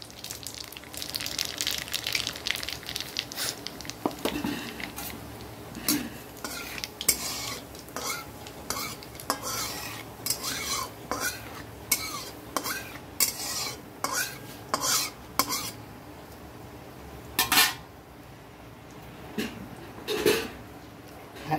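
Dried red chillies and black cumin seeds frying in hot oil in a wok, a soft close sizzle under frequent clinks and scrapes from a stirring utensil, with brief bursts of louder clatter.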